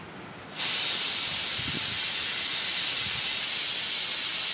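Steam from a pressure cooker on a home stove bursts out at full force after a quieter start, a loud, steady, continuous hiss that holds unbroken to the end.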